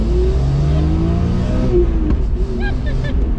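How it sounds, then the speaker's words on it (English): A BMW E46 M3 pulls hard in first gear, its engine note climbing loudly and close from inside the cabin, then easing off, with a brief voice near the end. "Let's see how hard a first gear hit throws her back in the seat."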